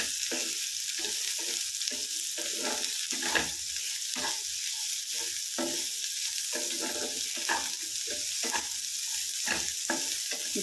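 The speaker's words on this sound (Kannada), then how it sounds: "ಸ್ವಲ್ಪ ಫ್ರೈ ಮಾಡ್ತೀನಿ." Cauliflower frying in a pan for a dry masala fry, a constant close sizzle broken by repeated scraping and stirring strokes at an uneven rhythm, with no talking.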